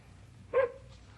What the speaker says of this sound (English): Hey, you dogs, quit now.